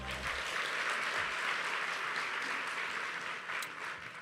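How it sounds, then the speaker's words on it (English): Steady, dense audience applause fills the hall at an awards and induction ceremony for the Michigan Chronicle Women of Excellence, loud and sustained without pause, tapering only slightly at the end. "Give her another round of applause."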